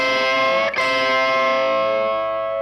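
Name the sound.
distorted electric guitar double stop with bent middle-finger note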